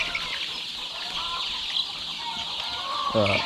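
Hens in a chicken house at early morning give scattered clucks over a steady background hum, with a louder burst of clucking near the end.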